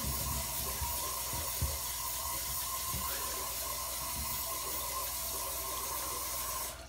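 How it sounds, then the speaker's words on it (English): Warm water from a tap streams continuously while hands rinse a face at a sink. The wash of water is loud and even throughout. "I'm going to take my warm water again, not too hot, not too cold. And I want to rinse this off of my face"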